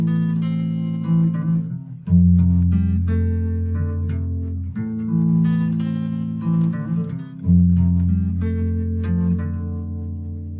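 An electric guitar plays a riff, mixing ringing melody notes with low bass notes in a steady, repeating pattern. It is close and clear, with brief gaps between phrases and no voices.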